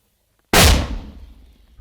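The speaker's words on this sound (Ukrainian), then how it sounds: "Після пари трійки пострілів українського міномету" A single loud, sudden boom of a Ukrainian army mortar firing in wartime breaks the silence, followed by a long, fading rumble.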